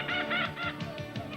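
A comic bird call plays in an Australian outback tourism commercial from a 1985 radio broadcast, a quick run of five or six honking, cackling squawks, fairly faint and alone.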